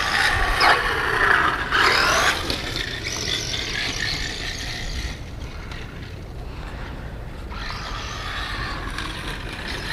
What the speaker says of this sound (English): That 540 brush motor definitely gives it some speed.